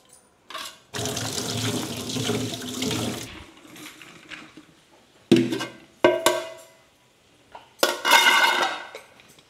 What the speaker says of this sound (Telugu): 12 hours నానిన తర్వాత మంచిగా ఒకసారి ఇట్లా చేతితో ఇట్లా కడిగేసుకోవాలా